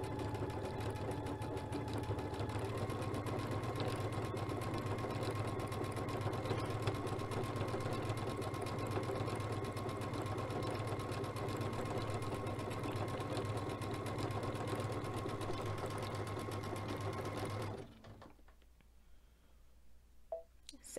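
A sewing machine fitted with a circular attachment stitches a square stitch pattern, running as a steady, close mechanical whir with rapid clicking for about eighteen seconds before stopping abruptly into near silence.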